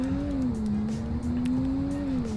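Steady engine drone of a car accelerating in the Roblox game Greenville, a smooth tonal hum with a slowly rising and dipping pitch, continuous and fairly close throughout.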